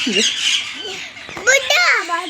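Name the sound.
parrot squawking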